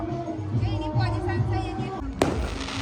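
A single sharp firecracker burst cracks out near the end during an Uttarayan celebration, following people talking over a low background hum.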